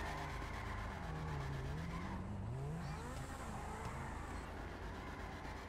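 A Porsche revs hard with tires squealing as it skids, loud and close, engine tone sweeping up and down over a steady roar.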